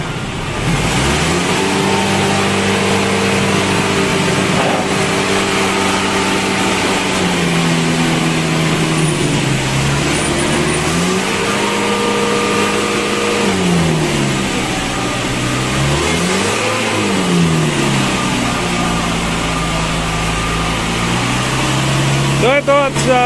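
A car engine idles and revs in drawn-out, rising and falling swells, loud and close, with someone talking over it throughout.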